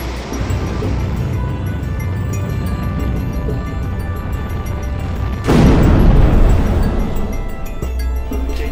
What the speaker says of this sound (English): Missile away, track 7321